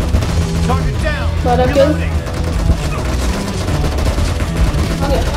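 Rapid gunfire in the battle royale game PUBG during a team deathmatch, dense overlapping shots filling the scene loudly, with players talking excitedly over it.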